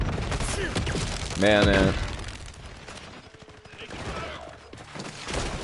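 Bursts of automatic gunfire in Call of Duty Warzone, sharp rapid shots and crackling volleys scattered through the clip, with a voice speaking briefly over the shooting.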